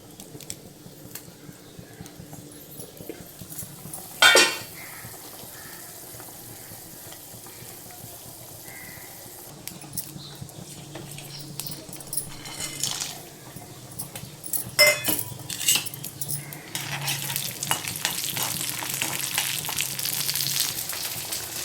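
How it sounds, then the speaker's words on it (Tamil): Turkey berries fry in oil in a kadai, a low crackling sizzle with occasional stirring scrapes and a few sharp clatters, growing louder toward the end. "சுண்டவத்தை வறுத்துக்கணும் கடாயை வச்சாச்சு தேவையான எண்ணெய் வறுத்தியாச்சு"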